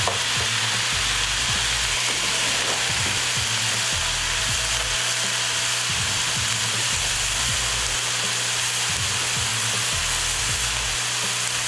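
Food sizzles and fries steadily in a wok during a stir-fry, with a dense continuous hiss and repeated scraping, clattering stir strokes throughout; no voices.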